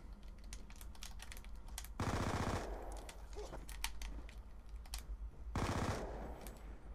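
Gunfire in the Black Ops 2 video game, bursts of rapid automatic shots with two louder sustained volleys over a busy backdrop of clicks and game noise.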